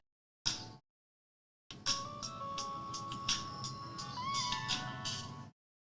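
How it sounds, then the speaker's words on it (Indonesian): A phone ringtone chimes during a political talk, a brief electronic blip, a pause, then a longer melodic tone pattern sounding on its own for several seconds before cutting off. "ada telepon ya. Kita matiin dulu sobat era sekalian."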